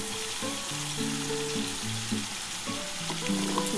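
Mutton frying in a pan with a ground paste of onion, garlic, ginger, cumin and garam masala, a steady close sizzle under faint humming tones.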